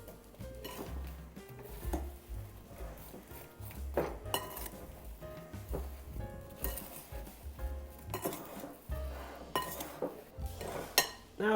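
A regular kitchen knife chops apples into wedges on a board: a steady run of close, irregular knocks and clicks with occasional clinks of utensils, and no one talking.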